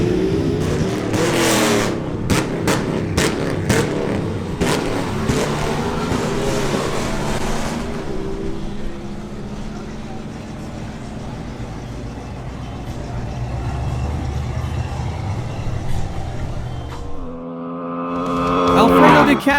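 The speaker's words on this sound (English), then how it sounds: "Now, we have a duel between two Aprilia RS 660s" Two Aprilia RS 660 motorcycles in a drag race, engines revving and roaring loudly before fading into a sustained distant drone, then a rising rev near the end, with crowd and announcer voices mixed in.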